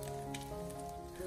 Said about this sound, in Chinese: 我们将底下煎至微微的金黄色，再给它翻个面